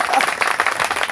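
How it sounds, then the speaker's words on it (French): Church congregation applauding, a brief dense patter of clapping heard close and fairly loud, with voices mixed in. "applaudissons pour le frère Jean-Pierre"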